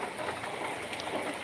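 Rain falls steadily on surfaces in a village, a continuous hiss of patter with no talk.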